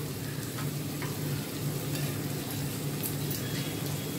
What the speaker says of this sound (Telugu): ఇప్పుడు తాలింపు పెట్టుకున్నాం.